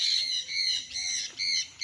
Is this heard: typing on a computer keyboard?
no